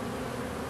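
A brief burst of thick, steady buzzing from honeybees being shaken from a frame into their hive, close and unbroken, without talk.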